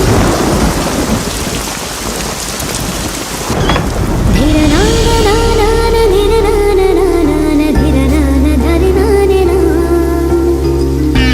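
Heavy rain pours down at night with rolling thunder, a loud, dense and unbroken wash of sound; music rises over the storm partway through.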